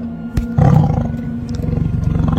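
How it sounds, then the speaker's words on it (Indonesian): Heavy, rumbling growl of a white tiger, loud and close, rising after a sharp onset into a sustained roaring snarl with pulsing throaty rhythm toward the end. "suara geraman berat terdengar semakin dekat"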